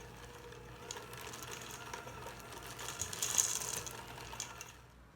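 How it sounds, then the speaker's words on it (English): An electric mixer churns salted caramel cookie dough studded with bits and chips, a steady, fairly quiet mechanical whir with a rattling, grinding texture that swells slightly before stopping. "start mixing again. Mix thoroughly until all the bits and chips are mixed into the dough."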